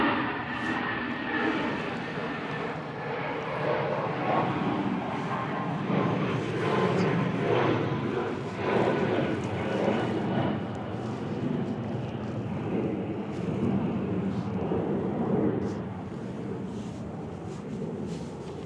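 Norwegian airliner taxiing at Manchester Airport, a steady distant jet engine drone that rises and falls slightly for the full stretch, with no talking.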